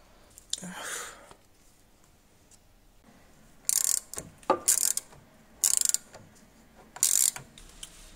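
A ratchet tightens a BMW E46 steering part in a few short, sharp bursts of clicking, separated by quiet pauses and faint handling noises.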